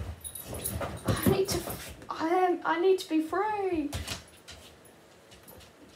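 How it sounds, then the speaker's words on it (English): A dog whimpers and whines close by in a series of high, rising and falling cries, mixed with a person speaking briefly before the sound fades. "Oh, that's my dog."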